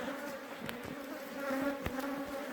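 Bees swarm around an opened beehive during feeding and maintenance, a dense steady buzz with sustained droning tones and a few sharper passes close by, with no talk.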